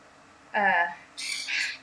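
Pet birds squawk indoors in two loud, harsh bursts, a lower raspy call followed by shriller, higher squawks, close by with no talking.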